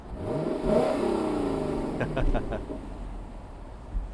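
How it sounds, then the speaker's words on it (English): A naturally aspirated V8 engine of a 2021 Lexus LC500 Convertible revs up in a few sharp bursts, loud and close, with talking over the low rumble. "I'll rev the engine a little bit."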